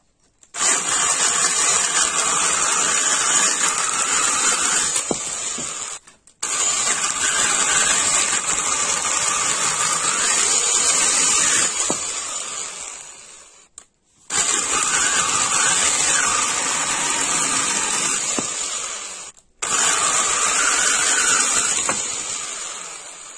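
A Parkside 20V cordless pole pruner (PAHE 20-LI C3) cutting through a 7 cm branch: four long bursts of loud, steady motor whine and chain cutting, each stopping abruptly before the next.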